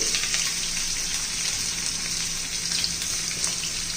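Ginger, garlic and dry coconut fry in hot tempering oil after cumin and mustard seeds have crackled, giving a dense, even sizzle that stays loud and close throughout.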